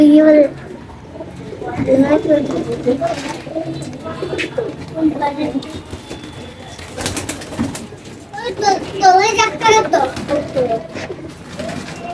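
Pigeons coo repeatedly in low, throaty bursts while someone talks nearby, the calls rising and falling throughout.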